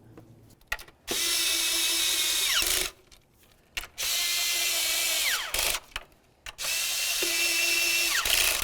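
Power tool snugging the upper intake bolts on a Dodge Journey, three long, steady high-pitched whirring bursts of a few seconds each with a descending wind-down, separated by brief clicks and pauses, close and loud.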